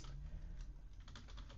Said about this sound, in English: I'm just typing my essay